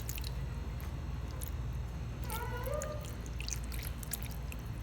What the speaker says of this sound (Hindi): तो ये अब मैं इनमें सिरका डाल रही हूँ।